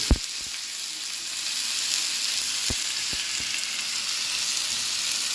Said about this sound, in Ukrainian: Сосиски будемо обсмажувати з кожної сторони, перевертаємо їх.